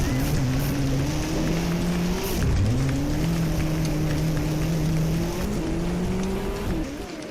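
A Mitsubishi Evo 9 rally car runs a stage with a handbrake turn, its engine droning loudly and steadily, the pitch dipping and climbing again midway before easing off at the end.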